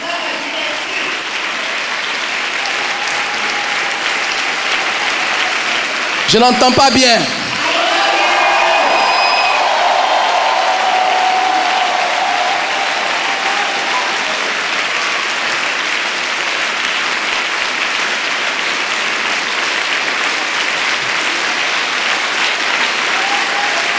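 A church congregation stands and applauds steadily, a broad even wash of clapping from many hands with a brief louder swell of cheering and voices partway through.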